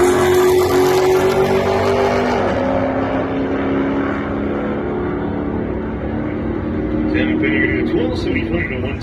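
Race car engines at a drag strip test and tune session roar steadily and loudly throughout, with revving and passing vehicles blending into a dense mechanical drone and talk mixed in.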